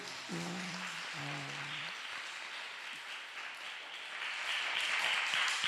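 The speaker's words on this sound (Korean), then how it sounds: "하나님께 영광의 박수 돌립니다" A church congregation at a revival service applauds to glorify God, a steady wash of clapping that grows louder toward the end, after a brief sung or spoken voice at the start.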